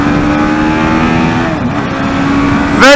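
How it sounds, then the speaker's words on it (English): A TVS Apache RR 310 motorcycle engine revs loud and close while overtaking a truck on a highway, a sustained buzzing drone under wind that ends in a sharp rising rev. "Very rev happy motorcycle."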